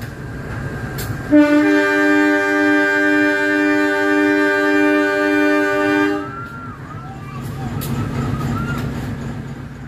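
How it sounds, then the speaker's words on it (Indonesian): A CC203 diesel locomotive on an Indonesian passenger rail line sounds a long, loud, steady horn blast for several seconds, followed by the rumble of the passing train. "Terkadang semboyan 35-nya atau bisa dibilang klaksonnya itu wow, menggelegar banget."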